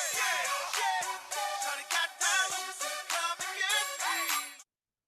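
A song played back with its bass removed, thin bright vocals and synth chords in short phrases with brief gaps, no low end, stopping abruptly near the end.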